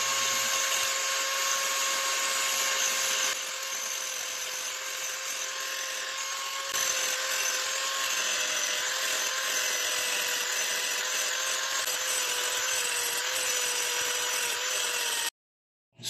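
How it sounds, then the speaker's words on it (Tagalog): A grinder shaves down the piston of a Keeway K Blade 125 motorcycle, a steady high-pitched whine held at an even level for about fifteen seconds, briefly dipping in pitch and load before cutting off abruptly at the end. "Gagamit tayo ng grinder sa pagbabawas ng ating piston."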